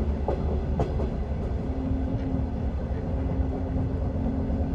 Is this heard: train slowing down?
yes